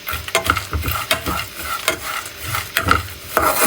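Ingredients stirred and roasted in ghee in a pan, with a steady sizzle and continuous scraping of the spoon in quick, close strokes.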